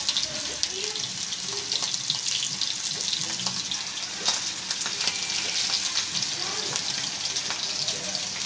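Shrimp fry in a pan with a continuous bright sizzle and crackle, with light stirring noises mixed in, close and steady throughout.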